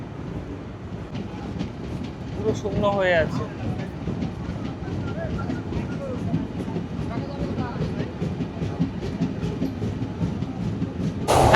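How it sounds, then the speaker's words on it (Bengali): A Kolkata to Dhaka passenger train pulls out of Bhanga station in Faridpur and rolls steadily on the rails, a continuous rumble with faint rhythmic clatter heard from inside the carriage while a voice speaks over it. "আবারও আমাদের ট্রেন ছেড়ে দিল ঢাকার উদ্দেশ্যে।"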